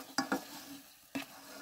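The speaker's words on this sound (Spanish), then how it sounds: "colocamos los camarones para que se sazonen aquí en el aceite que ya le puse la cebolla" Shrimp land in hot oil with onion, giving a few short loud scrapes and clatters of stirring over a soft, brief sizzle.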